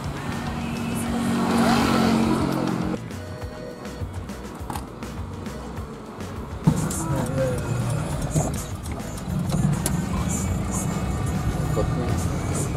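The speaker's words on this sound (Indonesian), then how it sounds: "Kami sudah di mobil, di angkot menuju ke sekolah satu lagi" Riding inside an angkot minibus on the road to a school, a rough engine rumble and road noise with rattles and bumps, swelling and shifting in loudness, while people talk over it.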